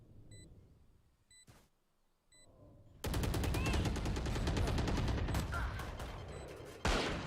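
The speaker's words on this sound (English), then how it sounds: "Shots going off left, right, and center" Rapid bursts of gunfire in a competitive Valorant-style esports match on the Lotus map, starting abruptly after a quiet stretch with faint beeps, then dense and loud volleys continuing throughout with a sharp extra burst near the end.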